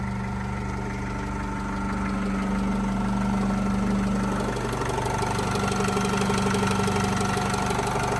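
An Opel Vivaro 2012 van's 2.0-litre 115 hp engine idles steadily with a low, even hum and slight vibration throughout, close by and with no talking.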